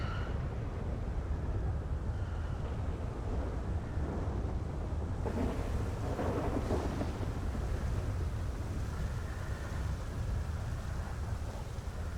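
Steady rain and storm noise in a roleplay video game, a dense, continuous broadband wash with low rumbling throughout and a brief swell near the middle, with no voices.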